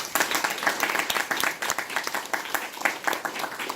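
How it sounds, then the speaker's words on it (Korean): Audience applause from a crowd at a talk about marriage and family, dense, fairly even clapping that carries on steadily at moderate volume. "여러분을 위해서 박수 한번 주겠습니다"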